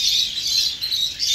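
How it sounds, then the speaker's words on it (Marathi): Lovebirds chirping inside a zoo aviary at Kamla Nehru zoo garden in Ahmedabad, a dense, continuous chatter of many high twittering calls close by, with no voices. "नुसता किलबिलाट आहे पक्ष्यांचा."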